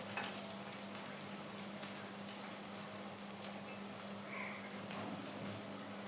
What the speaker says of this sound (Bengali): দু পিঠই যেন সুন্দর মতো ভাজা হয়ে যায়